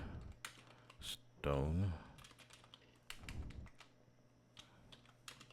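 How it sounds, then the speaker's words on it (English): Someone types on a computer keyboard in irregular bursts of close, light key clicks, with a short spoken word and some low background hum partway through. "let me just go ahead and just type in here"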